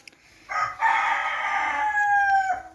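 A single rooster crow rings out nearby, starting after a brief pause and stretching into a long drawn-out call with faint background noise.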